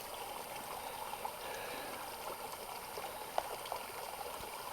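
Small stream of water trickling beside a mountain bike trail near Jenkinson Lake, a faint continuous burble and splash heard alone with no talk, steady throughout with a couple of brief brighter drips.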